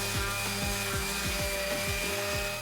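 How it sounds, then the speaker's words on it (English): An electric power sander works over light wood, its whine repeatedly dipping and rising in pitch as pressure changes, steady and fairly close. "Yeah, that sands back to a lovely light wood."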